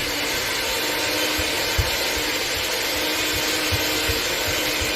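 An electric mixer running on high beats sugar cookie dough, a loud, steady whirring drone that never lets up, with faint low knocks from the beaters against the bowl and no talking.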